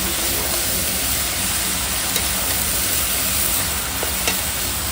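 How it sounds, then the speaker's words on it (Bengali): Cabbage fries and is stirred in a pan, giving a steady, loud sizzle with faint scraping taps throughout and no talking. "এখন বাঁধাকপিটা দেখো সুন্দর করে কষিয়ে নেবো।"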